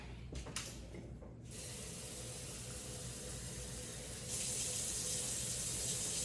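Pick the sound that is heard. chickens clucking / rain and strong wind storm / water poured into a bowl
water poured into a bowl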